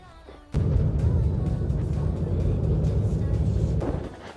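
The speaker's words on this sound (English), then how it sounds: "Yeah, vehicle gone stuck." Vehicle engine revving hard while stuck in deep snow on the high-altitude Umling La Pass in Ladakh in winter, a loud sustained low roar that kicks in abruptly, holds for about three seconds, then drops off.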